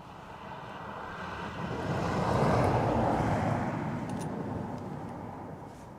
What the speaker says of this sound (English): So we'll let Aer Lingus land